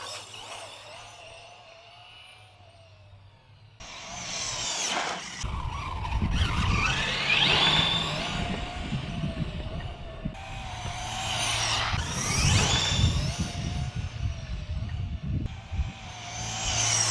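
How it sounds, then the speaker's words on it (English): A Cen F450 RC truck converted to a brushless motor accelerates hard on throttle, high electric whine rising with bursts of tire scrub and gravel spray, several loud surges separated by brief lulls, close by. "when you really hammer on that throttle"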